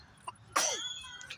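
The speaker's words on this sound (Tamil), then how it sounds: "தும்மிகிட்டே இருக்கு." A girl sneezes once at a park: a sudden, loud, close burst that trails off quickly, with no talking.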